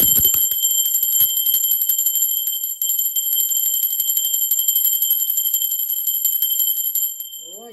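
A bright, sustained metallic ringing with steady high overtones, like a bell or singing bowl, holding evenly for several seconds before fading out at the end.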